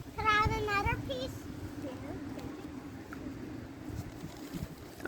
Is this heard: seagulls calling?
yes